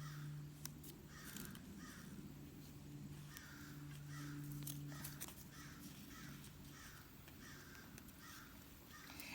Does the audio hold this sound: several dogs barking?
no